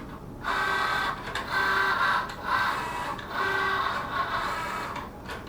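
A quiet electronic cutting machine whirs steadily, its motor rising and pausing in short repeating passes, close by with no talking.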